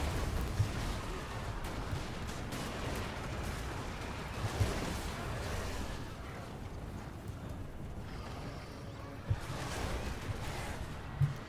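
In a Total War fantasy battle against the Tomb Kings, massed gunfire crackles in scattered volleys over a rumbling battle din, with a few sharper shots standing out at moderate volume.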